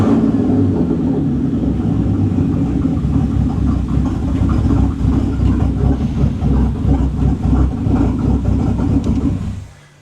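A rebuilt Bentley engine running steadily after standing long as a non-runner, a loud, even mechanical rumble close by that holds for about ten seconds before cutting off abruptly at the end.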